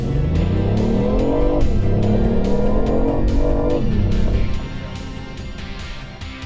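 A supercar accelerates hard, its engine roaring loud and close through several rising gear pulls before easing off toward the end.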